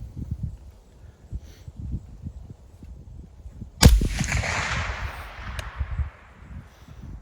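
A single sharp supersonic rifle shot is fired while sighting in for deer season, loud and close, with a long rumbling echo trailing away over quiet outdoor background noise.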